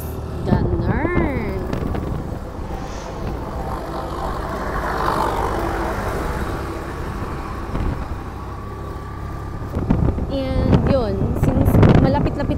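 A Suzuki Burgman motor scooter rides along a road toward Baguio City, its steady engine drone and wind rush continuous throughout, with a passing vehicle swelling louder near the end.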